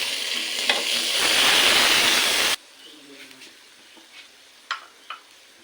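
A medium tomato goes into a hot frying pan for a greens curry, giving a loud, close sizzle that cuts off abruptly into quiet, with a few soft clicks after.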